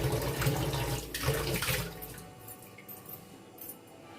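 Food being rinsed under a running tap in a home kitchen, a steady broadband splash of water with some squishing and handling noises, loud at first and easing to a softer trickle.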